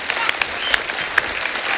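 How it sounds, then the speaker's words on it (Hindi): Brief burst of audience applause for the Demolition Crew dance group on a comedy show stage, brisk clapping with a few sharp individual claps standing out, loud and close. "एक बार जोरदार तालियां हो जाए"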